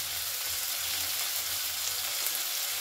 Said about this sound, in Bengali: ভালো করে গ্যাসের ফ্লেমটাকে একদম লোতে রেখে আমি একটুখানি এটা নাড়াচাড়া করে কষিয়ে নেব।